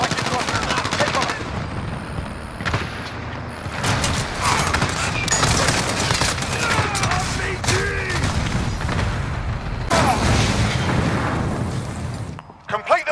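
Sustained light machine gun fire in a combat video game, long loud automatic bursts with booming impacts and explosions, broken by brief pauses, with voices talking over the shooting.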